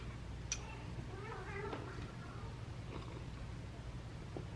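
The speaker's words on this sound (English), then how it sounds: "My cats are being crazy in the background." Pet cats meowing in a quiet room, a few short, faint calls in the background over a low steady hum, with no speech.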